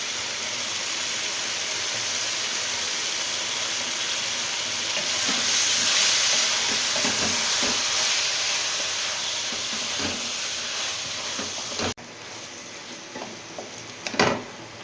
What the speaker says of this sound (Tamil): நம்ம ஊற வச்ச பலாக்காய் இருக்குது இல்லைங்களா, மசாலோட, அதை அப்படியே போட்டு நல்லா வேக வைக்கணும்